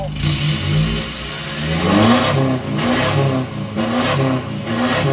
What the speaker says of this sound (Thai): เดี๋ยวเราฟังเสียงท่อบ้างครับ